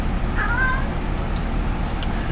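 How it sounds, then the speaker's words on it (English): A single short cat meow sounds early on, moderately close, over a constant low hum, followed by a few faint clicks. "My cat's going crazy."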